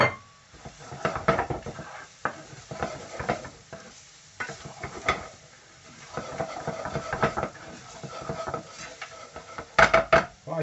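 Spices tipped into a hot pan for chicken jalfrezi, giving a steady stirring scrape and soft sizzle with utensil clinks against the pan, close and continuous without speech.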